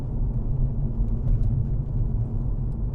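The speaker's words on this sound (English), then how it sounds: "There's quite a lot of road noise. Quite a lot of road noise in here." Continuous low rumbling road noise inside a moving Hyundai i30N, a dense steady drone with no talking.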